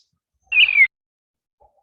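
A single short, high, whistling bird call rises and falls once, close and clear against near silence.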